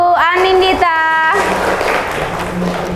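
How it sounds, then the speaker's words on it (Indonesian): A class applauding a classmate after a presentation: a brief sung or spoken tone from a person gives way to a burst of scattered clapping from the room that continues to the end. "tepuk tangan untuk Anindita."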